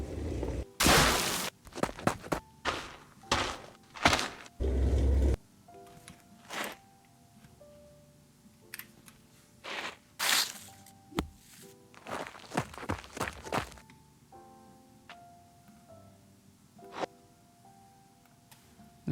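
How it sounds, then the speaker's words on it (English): Gritty dirt crunches in irregular bursts, some sharp and close, others softer, scattered across a quiet background. "I might even want to just take some dirt sound maybe."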